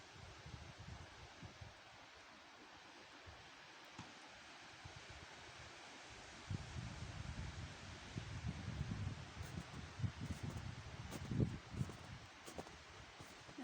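Wind storm gusting through the treetops of a forest near Bridesville, BC, a steady broadband roar that swells louder in the second half with surging gusts, heard from the ground with no talk.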